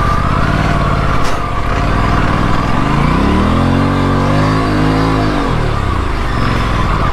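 An Aprilia RS 457 motorcycle engine on an off-road trail, loud and close, droning steadily before revving up and dropping back down.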